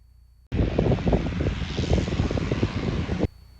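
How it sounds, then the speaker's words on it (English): A twin-engine airplane roars at full takeoff power, a loud, steady engine drone with a rough propeller texture that starts abruptly and cuts off just as suddenly, without anyone talking over it. "We're going to go full power, hold the brake in as best it can, and we are off, nose up."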